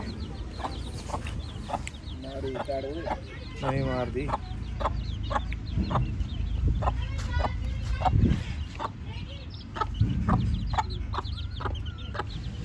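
A desi hen clucks low and repeatedly among her tiny chicks, which keep up a stream of sharp high peeps nearby, while someone talks over them.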